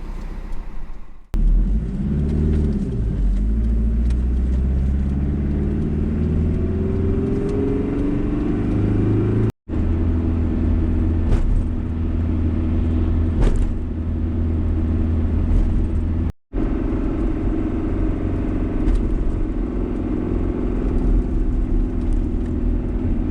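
A vehicle with failing power steering rumbles along the road, its engine a steady loud low drone with a slight rise in pitch early on. The sound is broken by two brief dropouts.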